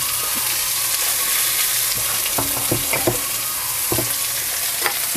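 Finely chopped onions and a little green chilli frying in a pan for Bengali poha, with a steady broadband sizzle and a few sharp stirring clicks and scrapes from the spoon, close and without talk.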